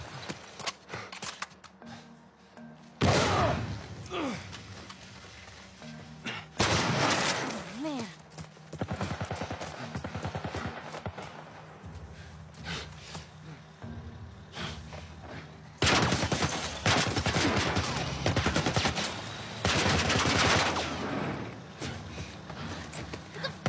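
Bursts of automatic gunfire from a military turret in a zombie survival video game, coming in several long loud volleys separated by quieter stretches with someone talking.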